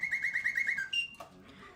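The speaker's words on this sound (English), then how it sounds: "This is the singing bird with no bird and no cage." Clockwork singing bird automaton driven by a Bontemps of Paris motor trills in rapid, pulsing whistled chirps, then gives a sustained whistle and a short falling note before fading to faint mechanical hum.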